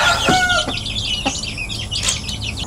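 Young Indian Aseel chicks and chickens in a yard chirping and clucking loudly and continuously, several birds close by with overlapping peeps and short calls.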